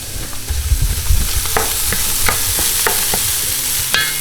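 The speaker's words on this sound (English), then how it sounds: "we want to go ahead and saute the onions and garlic until they become translucent" Onions and garlic sautéing in a pot for chicken soup with coconut milk, a bright close sizzle with a run of sharp spoon scrapes and taps, loud and without voices.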